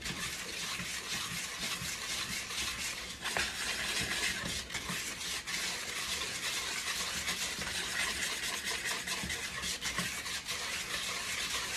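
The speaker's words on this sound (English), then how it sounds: "we're going to grab a whisk and just start mixing this" Whisk stirring dry bath bomb ingredients in a bowl, a steady close scraping and rubbing that continues without pause, with no voices over it.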